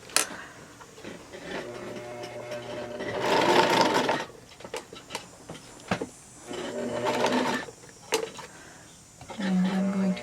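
A sewing machine stitches a seam in two sustained whirring runs, with clicks and fabric handling between them, close and clear; a person speaks briefly in the pauses.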